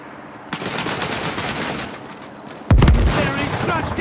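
Cannon fire in the video game Land of War: a dense rumble of battle noise gives way to a sudden loud, booming blast with a sustained roaring tail, heard close and dominating the mix.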